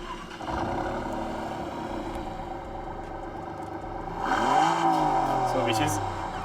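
A Maserati MC20 engine in the racing game Test Drive Unlimited Solar Crown, heard over a speaker as voices talk, then roaring up in a rising rev near the end.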